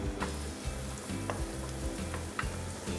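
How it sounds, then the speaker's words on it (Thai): Minced garlic sizzles steadily in melted butter in a pan on a gas stove, a constant, close frying hiss broken by faint stirring scrapes. "เนยละลายดีนะครับ เราตามด้วยกระเทียมสับครับ ใส่ลงไปได้เลย"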